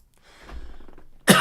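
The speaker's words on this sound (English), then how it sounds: "Got to clear my throat" A single sharp throat-clearing burst close to the mic, coming right after a stretch of quiet, low background murmur.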